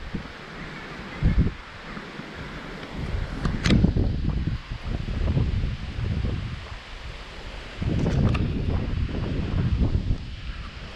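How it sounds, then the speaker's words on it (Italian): Strong wind at Valsorda buffets the microphone in loud gusts and rumbling bursts over rustling leaves, rising and falling across the stretch with no talking. "Troppo vento, via!"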